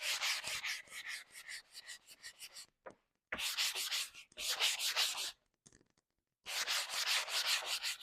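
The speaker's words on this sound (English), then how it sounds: "So take the sanding block and smooth it out." A sanding block is rubbed back and forth over painted wood in repeated close, rasping strokes, grouped in three bursts separated by short pauses.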